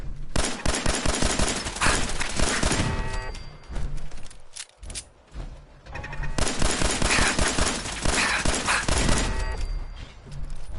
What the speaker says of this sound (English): Another laser turret.